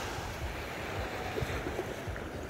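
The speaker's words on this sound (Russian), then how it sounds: "Сегодня волны, но там дальше вон прямо такие волны метровые." Sea waves wash onto a beach in Turkey on a November day, a continuous low surf roar mixed with wind buffeting the microphone, steady and moderately loud.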